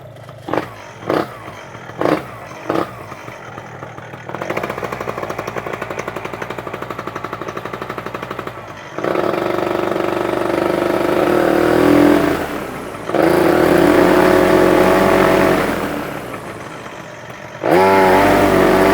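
Paramotor engine idling and revving as it warms up after the choke is switched off, opening with a few sharp sputtering pops before settling into a loud, steady droning run with swells in throttle, close to the listener.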